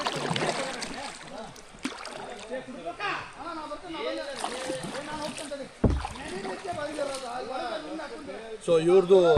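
A round coracle boat is paddled across river water, with irregular close splashes and dripping strokes under near-constant chatter, calls and laughter from people aboard.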